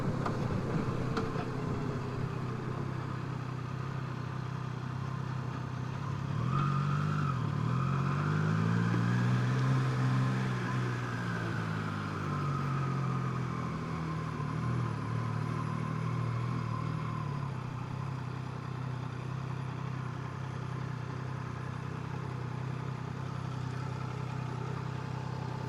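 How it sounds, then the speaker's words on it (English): A Honda NC750X motorcycle engine runs steadily, then its pitch rises and falls in a revving swell midway before settling back to a constant drone, with no talking. "I'm not used to it revving that high"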